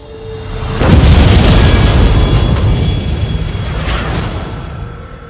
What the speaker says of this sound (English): An explosion rocked the city today.